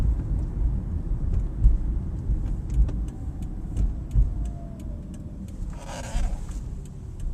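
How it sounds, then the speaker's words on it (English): Regenerative braking on a 2011 Toyota Prius gives a faint whir that slides slowly down in pitch beneath steady road and cabin noise, with a few light ticks. "it's kind of a whirring sound, and that's regenerative braking"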